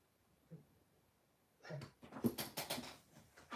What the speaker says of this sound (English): My dogs are going bonkers.